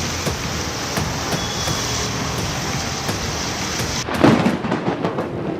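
Heavy, unbroken downpour during a flood-season storm in Vijayapura near the Bhima River, a dense steady hiss of rain throughout with a louder rumble of thunder swelling near the end.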